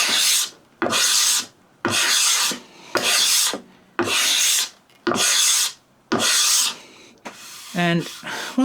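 A scraper plane is pushed across a wooden board in seven even, rasping strokes, each about half a second long with a short pause between, close and clear, followed by a brief bit of talk.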